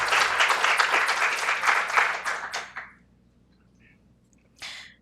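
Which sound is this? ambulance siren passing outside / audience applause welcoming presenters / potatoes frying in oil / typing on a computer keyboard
audience applause welcoming presenters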